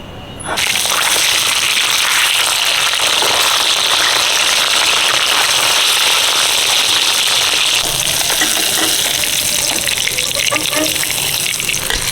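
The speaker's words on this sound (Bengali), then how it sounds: "পেঁয়াজ ভাজা তেলে কাতলা মাছটা ভেজে নিচ্ছি" Loud, steady hissing sizzle of katla fish frying in onion-fried oil, continuous and close throughout with a crackling texture.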